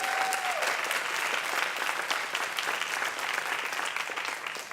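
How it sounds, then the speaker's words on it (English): A steady round of applause from an audience at a dance talk, dense and even clapping throughout, alone without speech. "So let's give that a round of applause"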